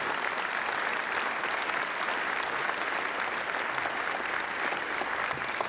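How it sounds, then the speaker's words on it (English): Mourners at a memorial service for a coach break into steady, even applause from a large crowd that fills the room without a break. "So let's give those two guys a round of applause."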